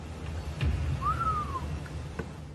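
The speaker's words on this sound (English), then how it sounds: "When she asks if there's anyone there, she hears a whistle." One short, clear whistle rises and then slowly falls in pitch, standing alone against a quiet room with a few faint knocks around it, in found-footage recording.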